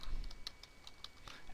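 Several light keystrokes typing into a form field on a computer keyboard, sparse and quiet with no talking.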